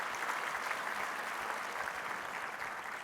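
Applause from the audience at an awards banquet, a fairly quiet, even wash of many hands clapping that holds steady throughout without voices on top.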